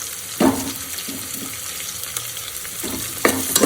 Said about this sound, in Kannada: ಇದು ಕೂಡ ಒಂದು 2 ಮಿನಿಟ್ಸ್, 2 ಸೆಕೆಂಡ್ಸ್ ಸ್ವಲ್ಪ ಫ್ರೈ ಆಗೋದಕ್ಕೆ ಬಿಡ್ತೀನಿ. ಕರ್ಬೇವಿನ ಸೊಪ್ಪು ಮತ್ತು ಆನಿಯನ್ ಎರಡನ್ನೂ.